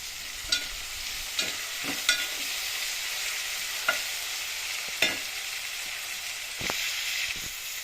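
Chopped tomato sizzles and fries in a pan while being stirred, a steady hiss punctuated by several sharp spoon scrapes and taps at irregular intervals.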